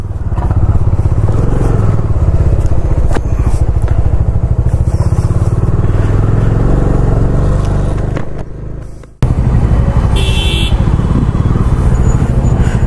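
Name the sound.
motorcycle riding on the road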